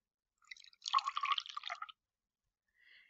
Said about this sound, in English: What we're going to do when we meet is pour one into the other